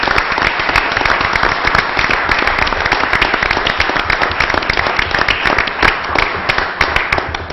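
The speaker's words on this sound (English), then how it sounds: "I really would like to give them a round of applause for the good work that they do" Applause for firefighters and the fire chief at a city council meeting, dense steady clapping from a room full of people, loud and sustained for the whole stretch.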